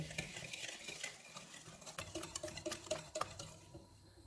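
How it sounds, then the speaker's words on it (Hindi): A spoon stirs vanilla essence, cardamom powder and melted butter together in a bowl for caramel bread pudding, making quiet, close clinks and rhythmic scraping strokes. "1 teaspoon vanilla essence, half tea spoon सब्ज़ इलायची का पाउडर, 2 टेबलस्पून मेल्टेड बटर। इनको अच्छी तरह मिक्स करेंगे।"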